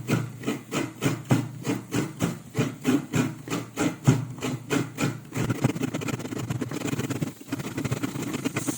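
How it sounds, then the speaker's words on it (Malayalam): Coconut being grated by hand with a scraper for a simple Kerala-style lunch dish, giving steady rhythmic rasping strokes about three per second, then a faster, denser scraping toward the end, close and fairly loud with no talking. "നമ്മൾ ഇതിലേക്കുള്ള തേങ്ങ ഒന്ന് ചിരകി എടുക്കുകയാണ് കേട്ടോ"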